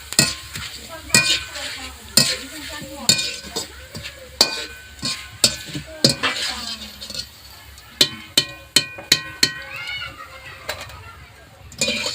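Shredded potato papad sizzles and crackles in hot oil, with sharp clatters from a utensil stirring at irregular intervals cutting through a bubbling hiss, close by and fairly quiet.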